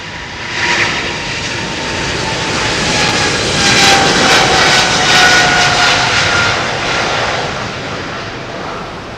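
A jet airliner roars through its takeoff and climb-out at Heathrow, a loud, sustained broadband engine rush that swells and holds steady with a faint whining tone running through it.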